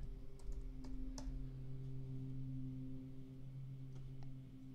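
Steady keystrokes tapping on a computer keyboard, a few crisp clicks close by over a constant low electrical hum, with no talking.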